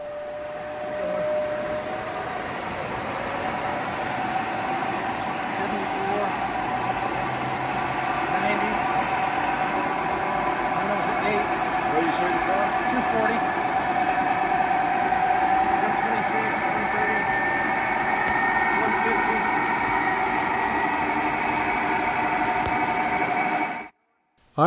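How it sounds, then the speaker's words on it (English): A Francis micro-hydro turbine starting up, a loud steady mechanical drone with a rising tonal whine and rushing water, sustained for over twenty seconds before cutting off abruptly. "it is time to start the Francis turbine"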